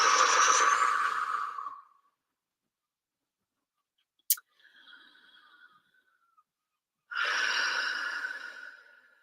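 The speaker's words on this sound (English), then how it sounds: "Nice deep breath." A deep breath heard close and alone, with a long breathy exhale, a pause broken by a faint click and soft breath, then another long deep breath.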